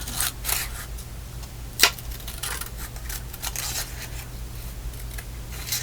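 Scissors snip a single word out of a paper scrap in a crafting session, with light, scattered crisp cuts and paper rustles close by over a steady low hum.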